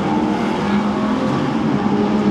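An Aston Martin V12 Vantage S accelerates hard with its V12 roaring loudly and steadily from close inside the car, revving continuously without a clear pause for the gear change.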